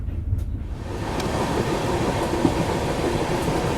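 Kashi Vishwanath Express on the Delhi to Lucknow run, crossing the Yamuna river: a steady low rumble of rolling wheels and a rattling carriage, heard close from inside the train with faint clicks.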